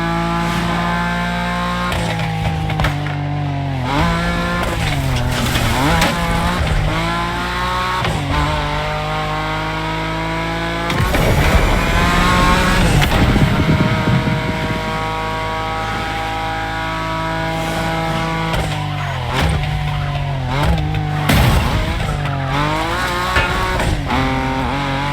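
BMW M5 Drift Edition drifting in The Crew Motorfest, a loud engine revving up and down in long sweeps with gear changes, joined by a harsh burst of tire squeal partway through, continuous and close with no talk.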